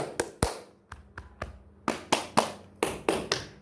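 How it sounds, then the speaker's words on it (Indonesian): An audience at a health education session claps in loud, separate, fairly regular hand claps, about a dozen sharp strikes close by with no voices. "Tepuk tangan bagi kita semua."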